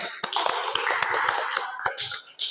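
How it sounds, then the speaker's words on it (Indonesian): Applause from a small group of students in a physics classroom, a short burst of scattered, uneven claps lasting a couple of seconds, close and moderately loud, with no talking. "Oke, beri tepuk tangan."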